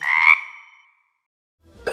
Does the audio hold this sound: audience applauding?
no